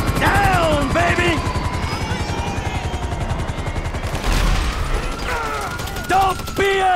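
Helicopter in Grand Theft Auto V during a heist mission, a steady rotor chop running under bursts of gunfire and crashes, with shouting voices cutting in over the din.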